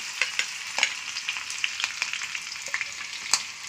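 Tadka for dal khichdi with garlic, chilies, cumin, mustard seeds, asafoetida and turmeric spluttering in hot oil: quiet, crisp crackles and pops in irregular bursts over a soft sizzle, close up.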